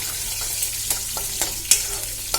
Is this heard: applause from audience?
no